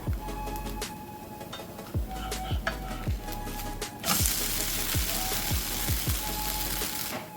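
Ghavan, an instant dosa, sizzles on a hot pan with a steady close frying hiss, broken by repeated soft scraping or tapping sounds, and no voices.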